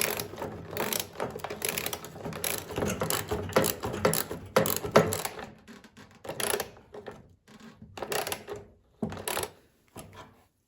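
A ratchet clicks in quick rapid runs while bolts come out of the plastic chute base on a 25-year-old MTD Yard Machines snow blower, followed by shorter separate bursts of clicking with pauses between.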